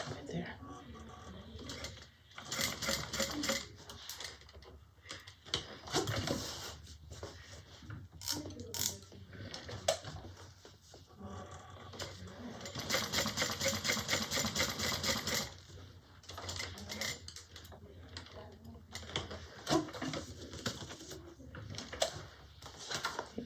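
A sewing machine stitching the overlay on a fabric bag, bursts of quick mechanical clattering that start and stop, with someone talking quietly between runs.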